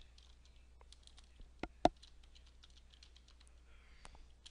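Computer keyboard typed on during a Python coding tutorial, faint scattered key taps with two sharper clicks, quiet and close with no talking.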